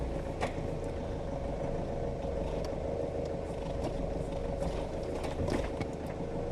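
A Nissan 4x4 reverses as a low, continuous engine and drivetrain rumble with faint mechanical clicks and clunks, steady and moderately distant, with no talking.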